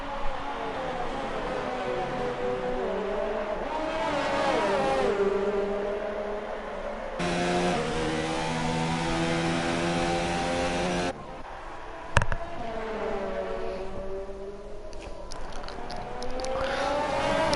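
Race cars in the F1 2019 video game at the Austria round drone with high whining engine tones that rise and fall as they shift through gears, moderately loud, with a brief sharp burst midway and commentary faintly underneath.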